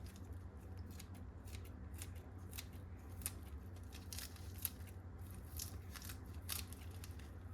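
Kitchen scissors snip olives and basil into spaghetti in arrabbiata sauce, giving a quiet, irregular series of crisp cuts against a low background hum.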